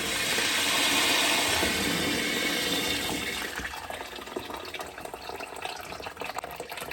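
Water draining from radiator pipework in a cold hallway, a loud steady gushing hiss that eases after a few seconds into a gurgling, trickling flow with faint clanks.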